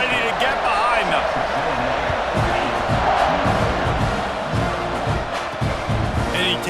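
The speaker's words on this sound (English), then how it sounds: "this crowd now ready to get behind them" A stadium crowd in EA Sports College Football 26 cheers ahead of a kickoff, a steady wash of roaring voices with rhythmic chant-like surges, carried under continuous play-by-play commentary.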